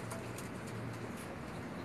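Pigeons at a pigeon-keeper's home in Lahore give soft, low, repeated coos, faint and brief against a quiet background.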